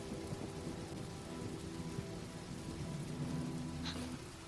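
Steady rain falls on a rainy road, a dense even hiss that runs throughout with faint low rumbles beneath and one brief sharper tick near the end, no voices.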